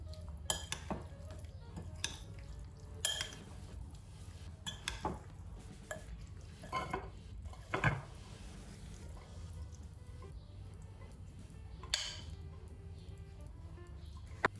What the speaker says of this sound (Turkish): Bezelyeyi bir karıştıralım. Dereotları karışsın.